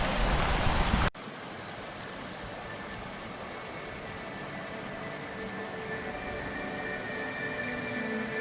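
After a brief louder burst at the start, a stream flows steadily with an even, unbroken rush that stays at the same level throughout.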